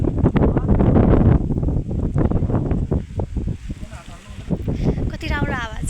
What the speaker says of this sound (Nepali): कति राम्रो हावा चल्यो वाउ